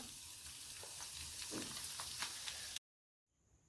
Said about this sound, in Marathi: ते आपण गॅस पेटूया यामध्ये आपण बारीक चिरलेला लसूण घालूया अर्धा चमचा